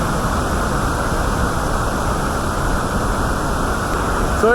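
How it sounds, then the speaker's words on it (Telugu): Vazhachal waterfall near Athirapally, Kerala, a steady, loud broadband roar of rushing water that holds constant for the whole stretch with no break. "సో ఇది వజచ్చల్ వాటర్ ఫాల్స్."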